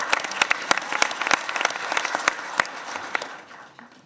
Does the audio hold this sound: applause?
yes